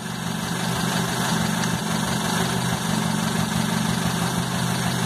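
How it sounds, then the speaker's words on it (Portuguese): A car engine idles steadily with a low, even rumble and mechanical hum while water is injected into the engine in small doses, constant and close, with no voices. "Tô injetando água dentro do meu motor."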